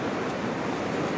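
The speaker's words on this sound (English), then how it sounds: "Here comes the waves." Ocean waves washing onto a beach, a brief, steady hiss of surf with a soft, continuous wash and no voices.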